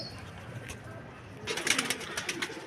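Pigeons cooing faintly at a home loft, a quiet start that gives way to a short burst of louder coos and fluttery calls near the end, with someone speaking.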